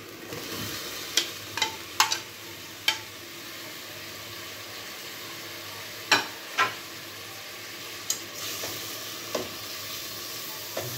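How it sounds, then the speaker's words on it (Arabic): Herring sautéing in a pan with garlic and vinegar over heat: a steady soft sizzle, with scattered sharp clicks and scrapes of stirring throughout. "نشوح الرنجايه معايا كده في الثوم والخل، عليها النار شويه."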